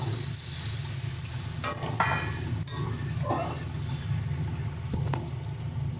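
Water poured into sizzling spice masala in a wok, a steady loud hiss and crackle of frying throughout with brief bursts of bubbling and steam, no talking.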